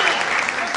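A theatre play audience clapping in a short, dense burst of applause that sounds close and full throughout.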